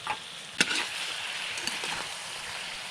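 Low, steady sizzle of chicken frying in a pan in a rustic kitchen, with a few faint clinks and stirring sounds over the continuous hiss.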